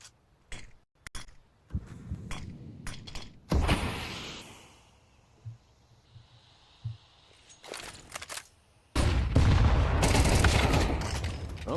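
A grenade blast in a Counter-Strike: Global Offensive esports match, a loud rumbling explosion swelling near the end after scattered gunshots, footsteps and quieter stretches.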